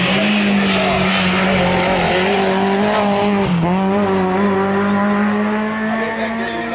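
Historic race car at a hill climb near Salins-les-Bains, its engine loud and close, revving hard and holding steady high-pitched tones through gear changes, with a brief dip before pulling on.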